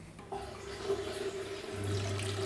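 Water refills a toilet tank after the supply valve is reopened, a close steady hiss and rush that strengthens partway through, with no talking.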